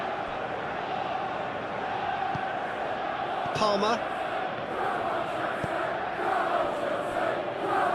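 Stadium crowd murmur in a football simulation of a Premier League match between Chelsea and Burnley, a steady wash of distant voices under a commentator's talk, with a brief whistle-like tone midway.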